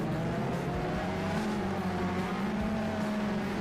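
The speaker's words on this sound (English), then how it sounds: "Hear those cars rolling away right now" Race cars in the iRacing sim game pulling away at the start of an Indy Pro 2000 oval event at Iowa, a steady, dense engine drone with rising tones throughout, moderately loud with no talk.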